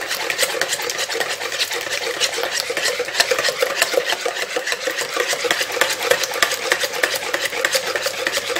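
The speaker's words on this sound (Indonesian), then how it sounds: "Lalu ini saya aduk seperti ini aja ya, sampai telur dan kental manisnya tercampur." Eggs and sweetened condensed milk are stirred by hand in a bowl with a utensil, making rapid, continuous scraping and swishing strokes that are close and steady, with no talking.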